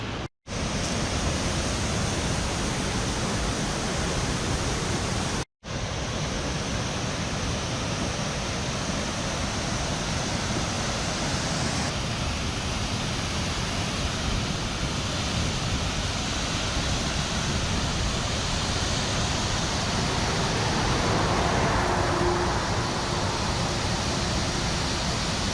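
Låtefoss waterfall in Hardanger, Norway, a loud, unbroken roar of rushing water that fills the whole scene, with no voices and only a momentary dropout near the start.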